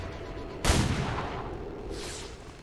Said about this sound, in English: Some nice return fire.